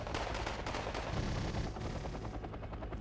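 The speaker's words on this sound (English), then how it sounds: "The MI-35 taking quite a lot of machine gun fire." In the Wargame Red Dragon video game, an MI-35 attack helicopter takes sustained machine gun fire: dense, rapid rattling gunfire runs throughout over a steady droning rumble, loud and continuous.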